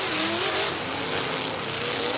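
Demolition derby wagon in a Pro Lite heat, its engine roaring under strain with tire squeal as it pushes against other cars, a loud continuous churning blast.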